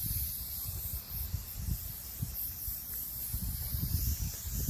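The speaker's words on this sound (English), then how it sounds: "Shake up the can. Spray away. Spray it like it's spray painting." An aerosol can sprays oil onto a 2006 Yamaha 450 motorcycle, a continuous loud hiss held for several seconds with faint low rumbling underneath, close by and without talk.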